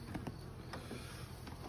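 Honeybees buzz around an open beehive during an apiary inspection, a faint, close hum with a few brief louder passes as individual bees fly near.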